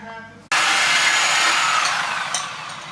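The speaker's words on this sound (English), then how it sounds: "You like that Sawzall, huh?" A Sawzall reciprocating saw cutting on a Mazda RX-8 project car, starting abruptly and running as a loud, harsh, buzzing rasp close by for several seconds.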